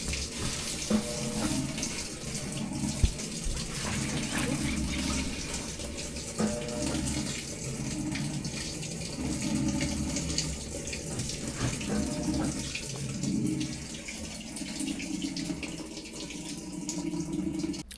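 A repaired washing machine filling with water, a steady loud rushing flow throughout with a low pulsing hum underneath and occasional small clunks, close and continuous.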